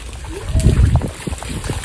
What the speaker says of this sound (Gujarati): ખેતરમાં કેવું પાણી આવતું છે.